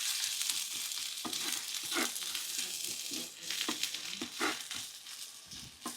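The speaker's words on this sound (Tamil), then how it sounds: "எல்லாத்தையும் நல்லா எண்ணெயில் வதக்கி எடுப்போம்." Onions and green chillies fry in hot oil for a Sri Lankan-style egg curry, giving a steady crackling sizzle with scattered pops and stirring scrapes throughout, close and alone without talk.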